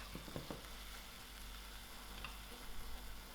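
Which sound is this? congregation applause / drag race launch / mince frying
mince frying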